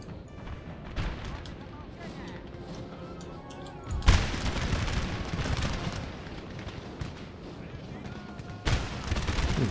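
Musket volleys and booming artillery from a Napoleon: Total War battle, with dense crackling fire throughout and heavy blasts landing around four and nine seconds, under someone talking.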